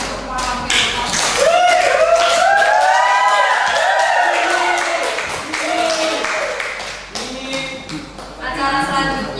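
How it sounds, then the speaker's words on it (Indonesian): Applause from an audience after a speech at a public speaking event, sharp irregular claps mixed with voices and tonal cheering or whoops, loud and close, continuing throughout. "Beri tepuk tangan sekali lagi untuk Muhammad Nurul Umar."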